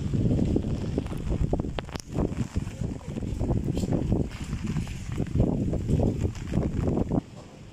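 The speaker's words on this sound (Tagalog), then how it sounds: "Grabe, lakas ng hangin ah." Strong typhoon wind during Typhoon Ulysses roars and buffets the microphone in continuous gusty bursts, loud and close, with rustling and rumbling mixed in and no clear speech.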